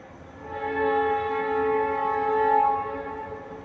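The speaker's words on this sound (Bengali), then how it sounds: "আমার পাশেই রেল স্টেশন, তাই মধ্যে মধ্যে ভয়েস ওভারের মধ্যে ট্রেনের আওয়াজ শোনা যাচ্ছে।" A train near a railway station sounds a sustained, steady multi-tone horn for about three seconds. The horn swells and holds fairly close and loud, with no voices.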